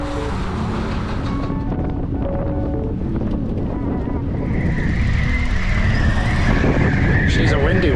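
Heavy wind buffets the microphone of a pro cyclist riding at a mountain training camp in Livigno, a loud steady roar filling the whole stretch, with faint voices and vehicle noise mixed in.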